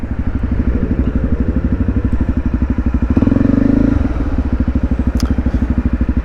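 A Honda CRF250 Rally motorcycle rumbles close by with a steady, throbbing single-cylinder engine pulse, swelling briefly as it rolls in, loud and continuous throughout.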